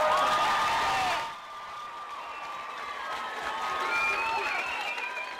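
A packed room at a New Zealand Labour Party election rally in Wainuiomata breaks into loud, sustained applause and cheering that swells again after a brief dip.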